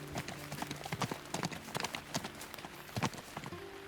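Hooves of a horse in the video game Teardown clip-clop in quick irregular clusters, close and fairly crisp, over a low steady hum.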